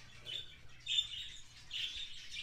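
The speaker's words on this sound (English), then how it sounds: "Look at these beautiful canaries." Faint, high chirps and tweets from canaries in a bird store flutter on and off over a low background hum, fairly distant and continuous.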